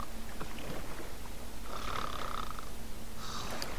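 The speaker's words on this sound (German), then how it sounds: "Und schnarcht vor sich hin." A sleeping Sim in The Sims 2 snores steadily, slow rasping breaths rising and falling over a constant game background hum, with no talking.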